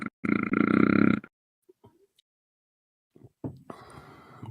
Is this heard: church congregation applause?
no